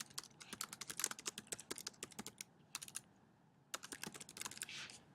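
Rapid typing on a computer keyboard, with dense runs of close, crisp key clicks broken by two short pauses and no voices.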